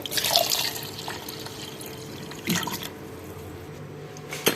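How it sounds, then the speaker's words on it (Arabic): A cup of water poured into a blender jar already holding ingredients for a home-cooked winter dish, a short splashing rush of liquid heard close and alone, with no talking. "هنزل بكوبايه ميه."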